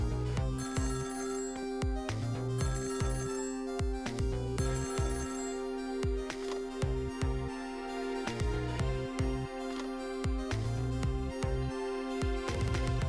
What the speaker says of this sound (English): There's a phone call there.